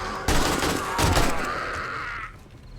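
AK rifle gunfire in the 7 Days to Die video game: a loud close burst of automatic shots followed by a second burst that trails off into a fading echo.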